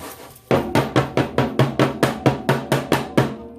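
A series of about twelve rapid, evenly spaced knocks as a pan of pound cake batter is banged down on a counter to remove bubbles, loud and close.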